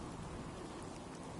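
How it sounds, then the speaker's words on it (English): Steady rain falls in the open wasteland of Fallout 4, a dense, even hiss of drops with a faint low rumble beneath, continuous and uniform throughout with no voices. "Oh my, it's raining again."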